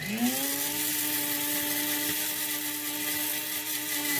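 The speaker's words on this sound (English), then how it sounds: "I'm actually going to grind this up just a teeny tiny bit more." Electric spice grinder whirring steadily as it pulverizes dried jalapeno and garlic into powder, a loud continuous motor whine with a sustained pitch that stays close and unbroken throughout.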